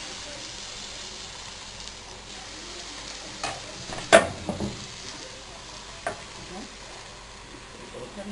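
Crepe batter made without eggs or milk sizzles faintly in a frying pan, with a soft continuous hiss broken by a few light scrapes and clinks around the middle.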